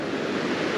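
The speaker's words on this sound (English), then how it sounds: "right where the waves are coming up at" Surf breaking near a sandbar on a beach, where someone is surf fishing: a steady, loud wash of waves with wind rumble across the whole short stretch, no voices.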